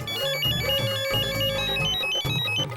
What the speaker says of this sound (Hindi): ये भगवान, एक तो ये पर्स में फोन रखा होगा, बेल सुनाई नहीं दी होगी।